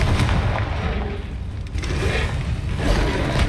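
Spell blasts of the fiery Confringo explosion crackle in Hogwarts Legacy, deep and dense booms rolling one into another in a loud, continuous battle with no voices.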